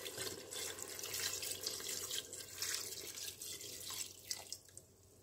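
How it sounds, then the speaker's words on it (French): Red wine, 50 cl, poured into a Cookeo multicooker pot during bœuf bourguignon preparation: a steady liquid splashing and trickling stream running for several seconds, ending with a few drips. "je viens verser mes 50 centilitres de vin rouge"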